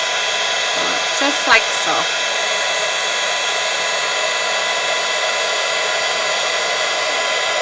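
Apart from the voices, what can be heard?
embossing heat tool blowing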